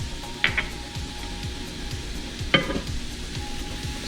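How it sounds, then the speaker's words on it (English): Kimchi frying in a hot pan gives a steady close sizzle, with two brief sharper bursts, like a stir or a utensil scraping, near the start and midway. "Oh yeah, listen to that sizzle."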